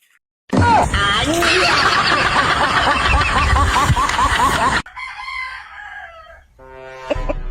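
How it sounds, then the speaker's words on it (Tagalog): A rooster crows loudly and close, with clucking around it, followed by quieter chicken sounds and a brief voice near the end. "Walang hiyang manok na ito"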